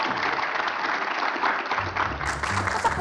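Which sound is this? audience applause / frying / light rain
audience applause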